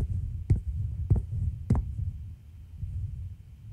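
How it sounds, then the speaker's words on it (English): Heartbeat sound effect in the video game Which: three dull, low thumps about half a second apart, then a softer throbbing hum with no talking. "So what's with the heart beating?"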